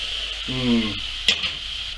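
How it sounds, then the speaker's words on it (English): A steady sizzle of onions frying in a pan hisses throughout, with a short voice-like hum and a brief scraping stir from a utensil. "Nothing better than a pan for frying onions."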